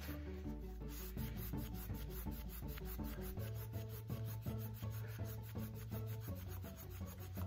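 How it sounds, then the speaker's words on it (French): Steady, continuous rubbing on a tarnished silver ladle being cleaned of verdigris, a dense scraping friction that runs without pause from start to finish, close and fairly loud, with no voices. "Alors en la frottant, oui effectivement on arrive à enlever un petit peu tout le vert de gris, mais il faut bien la frotter."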